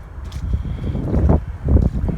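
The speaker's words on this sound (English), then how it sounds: "Ooh, it's windy." Gusty wind rumbles and buffets the microphone in low, uneven surges, swelling louder toward the end.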